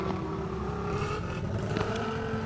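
Steady engine drone of a motorcycle in the mobile game Indian Bike Driving 3D, a continuous humming tone with slight pitch shifts as the bike is ridden on its back wheel, no voices.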